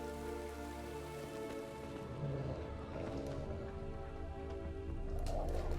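Rain falls steadily in The Witcher 3, a soft continuous patter on surfaces under a low ambient hum, quiet and unbroken with no talk.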